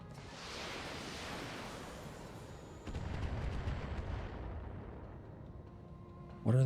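Artillery rumble from a BattleTech mech game rolls on as a dull, broad roar, with a heavier impact surging in partway through and a sharp burst at the very end.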